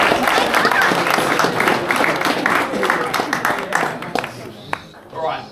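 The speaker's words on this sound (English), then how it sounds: "So give yourselves a big round of applause." Riders and spectators applaud at a cycling hill climb time trial, a lively burst of clapping that fades toward the end as a voice starts speaking.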